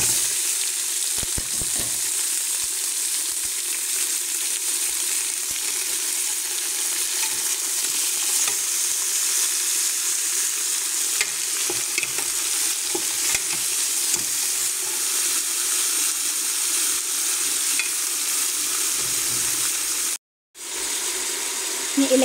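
Meat sizzles steadily as it fries and is stirred in a pan, with a loud, continuous hiss and occasional scraping clicks of the utensil, briefly cut off near the end.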